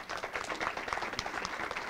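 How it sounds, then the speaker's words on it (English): An audience applauds steadily at a volunteer honoring ceremony, a dense, even patter of many hands clapping throughout with no voices over it. "let's give them a round of applause."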